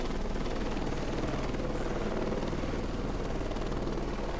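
A helicopter in the video game Heliborne gives off a steady, loud rotor and engine drone that holds unchanged throughout, with no voices over it.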